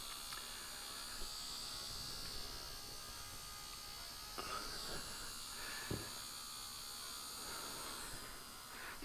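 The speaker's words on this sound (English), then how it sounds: "It's making fuel pump like noises, but and it's bogging down." A 2004 Ford Mustang electric fuel pump runs with a steady, faint mechanical whir and buzz that holds throughout. It bogs slightly while pumping nothing out, and a few soft clicks sit over the drone.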